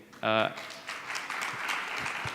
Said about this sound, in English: Please let's give him a round of applause, guys.